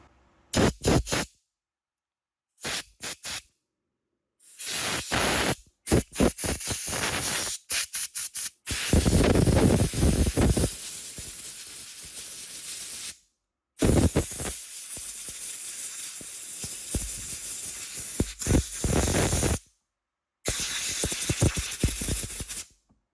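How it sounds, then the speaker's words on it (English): Compressed air blasting through the small passages of a Honda GCV lawn mower carburetor, loud close hissing bursts in short and long repeated blasts separated by silences, with no talk. "I'm just going to finish this off by blowing out all the small holes inside the carb."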